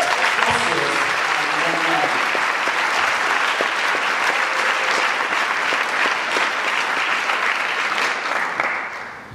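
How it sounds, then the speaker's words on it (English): Wedding guests break into sustained applause for the newlyweds Juliet and Michael, a loud dense clapping crowd at close range with a speaker's voice briefly over the start, fading slightly at the end. "we want to give a round of applause to the newlyweds."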